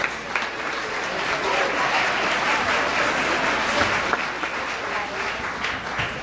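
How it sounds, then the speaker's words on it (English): A crowd applauds singers and a high school jazz ensemble at the 2019 Bethel Park Light Up Night, a steady roar of clapping with some voices murmuring underneath. "Let's give them another round of applause"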